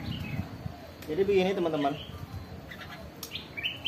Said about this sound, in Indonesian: ada perkutut, ada burung putar juga, ada burung jalak, jabo, ada kutilang sebelah sana